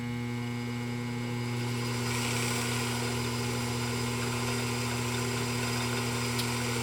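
A restored Pfaff 229 sewing machine runs at a steady, continuous hum with a low motor drone, close and even throughout, rising slightly in intensity partway through.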